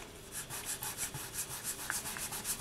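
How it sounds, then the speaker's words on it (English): Rhythmic back-and-forth scratching of sandpaper on a small hard piece of baked polymer clay, close and steady, about five strokes per second, with no talking. "Now I'm just going to be sanding with my 400 grit sandpaper all the way up to my 8000 grit"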